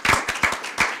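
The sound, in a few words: audience applause for the staff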